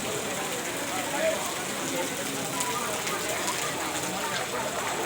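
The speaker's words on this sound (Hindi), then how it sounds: "बहुत अधिक तेज बारिश हो रही है।" Heavy rain pours down in Panipat as a steady, broadband hiss of falling water, continuous and fairly faint, with no distinct voices standing out.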